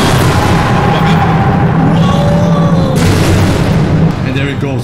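Heavy repeated booming bangs from the A100 monster in the video game Interminable Rooms, loud and continuous over a dense rumbling background, with people talking throughout.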